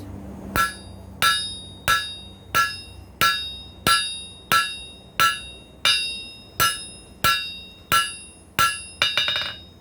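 Steady, evenly spaced hammer blows ring out on metal on an anvil at a forge, about a dozen sharp clangs each fading quickly, with a quick flurry of lighter taps at the end.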